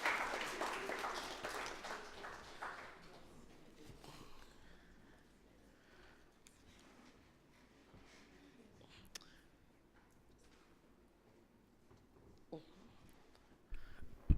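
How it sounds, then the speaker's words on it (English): Audience at a youth debate competition session applauding, a dense burst of clapping loudest in the first few seconds, then thinning into scattered claps and quiet room noise with faint murmurs. "So give yourselves another round of applause."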